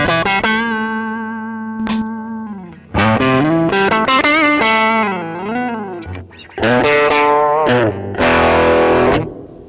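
Electric guitar played through a Hello Sailor Effects Range Master treble booster pedal, loud and biting with distortion, sustained chords and bent notes in bursts separated by brief pauses, with no voices.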